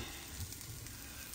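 Onion sizzles softly as it fries and browns in a pan, a faint steady hiss with light crackle, brief and quiet.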